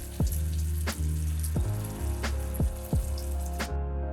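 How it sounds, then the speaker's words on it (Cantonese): Wontons deep-frying in oil heated to 150 degrees, a steady bubbling sizzle with a few sharper crackling bursts spread through it, close and fairly loud, with no talking. "準備150度嘅油溫就可以劈入去炸啦。"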